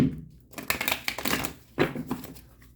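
Quiet, close rustling and rapid papery flutters of cards being shuffled, in a few short bursts.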